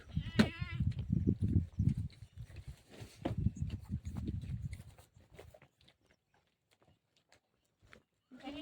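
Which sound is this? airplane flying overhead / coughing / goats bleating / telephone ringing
goats bleating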